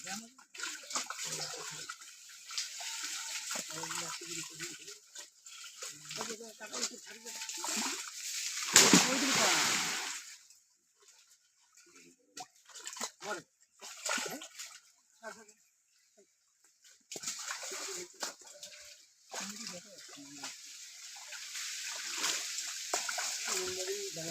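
Splashing as something is thrown into water while fishing with a net, with one loud splash standing out amid ongoing water sounds and people talking nearby.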